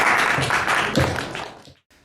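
An audience at a youth conference hypnotism show claps in a short, fairly loud burst of applause that fades out after about a second and a half.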